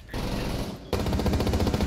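Close, loud automatic gunfire in Rainbow Six Siege, a rapid stream of shots in two bursts separated by a brief gap, with sharp repeated cracks filling the whole clip.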